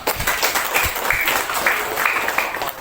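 A primary school class of children claps together in their classroom, fairly close and loud, with a loosely rhythmic patter of hands and a few young voices calling out over it.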